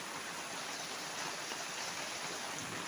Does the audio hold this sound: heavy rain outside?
yes